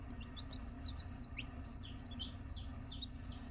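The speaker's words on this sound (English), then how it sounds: "And I have 3 chicks over here, and they're all, like I said, a week old." Week-old chicks chirping, a run of high, quick peeps close by over a steady low hum, with no talking.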